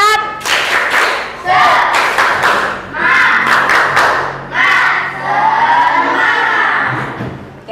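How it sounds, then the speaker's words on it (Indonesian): A fifth-grade primary school class does a rhythmic clapping chant together in the classroom, with loud bursts of unison claps and shouted voices repeating in a patterned beat. "Kalau semangat, tepuk semangat."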